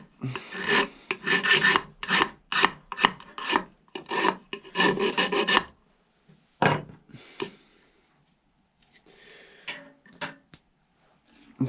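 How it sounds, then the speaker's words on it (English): A wooden ramrod is filed down by hand, a run of quick rasping strokes in close bursts, then a pause and a few softer scrapes, with no talking. "you can file that down pretty easy, and you got your fitment"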